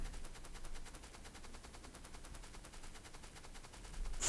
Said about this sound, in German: Fünf Türme schießen.